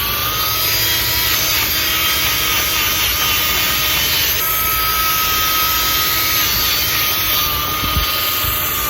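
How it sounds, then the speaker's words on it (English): Rain-X being rubbed onto a car headlight, a close, steady rubbing hiss of cloth on plastic that carries on continuously without pause. "And just rub it on there."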